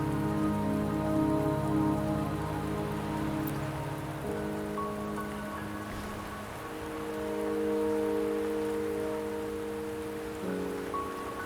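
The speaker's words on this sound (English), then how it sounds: "Don't worry, the rain won't last much longer." Rain falls steadily in the video game Wuthering Waves, a soft continuous patter on surfaces beneath sustained tonal music, quiet and unbroken throughout.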